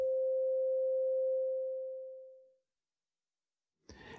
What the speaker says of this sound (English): Now check out this series of sustained sine waves.